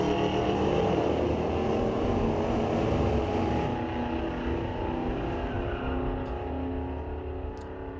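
A 2017 Maserati and a 2009 Dodge Challenger drag race at a street-legal night at Mission Raceway Park, a sustained engine roar that slowly fades as the cars pull away down the strip, no voices.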